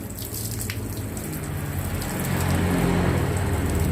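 Water pours steadily over a wounded civet during a bath, a close splashing and spattering stream that grows slightly louder and fuller toward the end.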